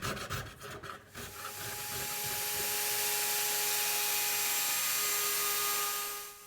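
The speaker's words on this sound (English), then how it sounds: "Here I'm cleaning up the sides of the guitar and cleaning the glue off before I cut the binding channels." Glue is cleaned off the wooden sides of a parlor guitar under construction, first with a few rough scraping rubs, then a steady high-pitched whirring power tool grinding along the wood, close and loud.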